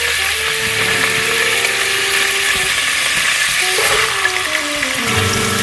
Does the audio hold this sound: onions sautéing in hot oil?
yes